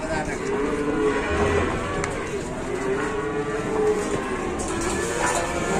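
A restless, agitated cow moos in long, low drawn-out calls that rise and fall, loud and close, over a steady background rumble with no talking.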